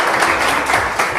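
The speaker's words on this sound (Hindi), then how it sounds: "बहुत सारी तालियां हो जाएं" Studio audience applauding on a Sindhi TV game show, a dense burst of many hands clapping, loud and close, lasting a little over a second.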